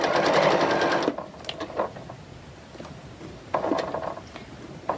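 Sewing machine stitching curved half-clamshell quilt pieces: a fast, even mechanical whir for about a second, then quieter clicks and rustles before a second short burst of stitching, nearby and with no speech.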